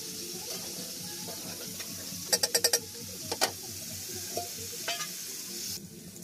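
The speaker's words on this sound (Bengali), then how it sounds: "এই দিক দিয়ে এখন মাংসটা আমি কষিয়ে নিচ্ছি।" Meat for biryani sizzles and fries in a pot beside fried onions, a steady crackle broken by a quick burst of metal spoon clinks as it is stirred.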